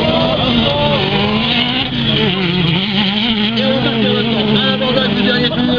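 Racing buggies roar around a dirt circuit at the Roz-sur-Couesnon final, engines droning steadily with shifting revs as they pass, while a commentator talks over the noise.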